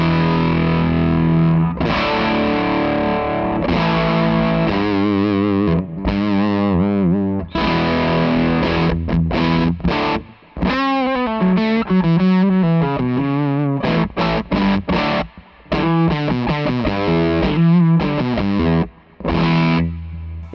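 Electric guitar through a Pierrot Pedals Pug Fuzz pedal strums thick, saturated rock chords, with sustained ringing stretches broken by short choppy bursts and brief pauses.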